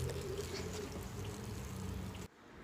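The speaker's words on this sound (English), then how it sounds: "And now next I'm going to water this in." Water poured onto a newly planted strawberry plant in loose soil gives a steady, close trickle for about two seconds, then stops abruptly.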